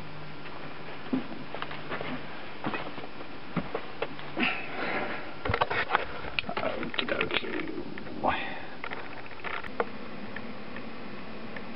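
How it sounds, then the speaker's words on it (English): A printer powers on and initializes, giving off a run of mechanical clicks, ticks and gear whirs with irregular bursts of motor activity, close and moderately loud. "Okay, so the printer's on and ready to go."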